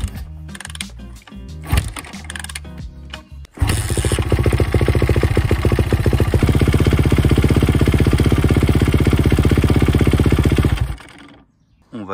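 A Kawasaki KX450F dirt bike, freshly serviced with an oil change, is started after a few clattering attempts. It then settles into a loud, steady, close-up engine drone for about seven seconds before being shut off.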